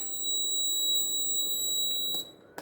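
An RF receiver buzzer on a walking stick for blind people sounds a steady high-pitched electronic alarm tone, clear and continuous for about two seconds before cutting off, with faint clicks near the end.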